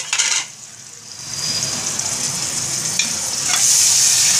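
Pieces of meat and spices sizzle in hot oil in a pressure cooker for a pea and mutton curry, with a brief metallic clink and stirring scrapes over a steady, fairly close frying hiss.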